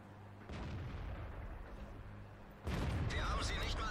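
Tank cannon fire in World of Tanks, the FV4202 (P) premium tank in battle: a steady rumbling engine bed gives way near the end to a loud, sharp booming blast with crackling decay.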